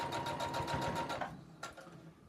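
Sewing machine stitching a fabric beach tote runs in a fast, steady mechanical chatter for over a second, then stops, followed by a brief clack as the stitch is secured.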